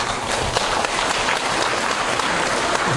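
An audience at a public lecture on Chinese-character education breaks into dense, steady applause: a loud, continuous wash of many hands clapping together for the full stretch, with no talking on top.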